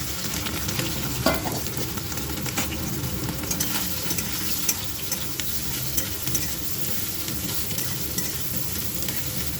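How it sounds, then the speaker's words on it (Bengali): Soybean chunks fry in a pan with a continuous, even sizzle, while a spoon scrapes and stirs them now and then; no voices are heard. "এবার সয়াবিনগুলো ভেজে নেব।"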